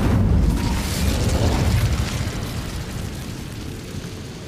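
A fiery spell cast in Hogwarts Legacy on Nintendo Switch, a loud whooshing burst of flame with a deep boom at the onset that rolls into a sustained roar and slowly fades.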